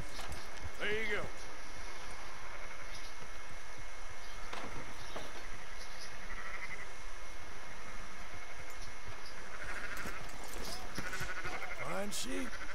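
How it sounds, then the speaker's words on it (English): Sheep bleat repeatedly in Red Dead Redemption 2, several bleats near and far over steady outdoor ambience, with a few hoof-like taps in between. "All 15 sheep done"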